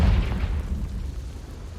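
A Confringo fire spell bursts in Hogwarts Legacy with a heavy, booming blast up front that rumbles and slowly fades over nearly two seconds, loud and close with no talking.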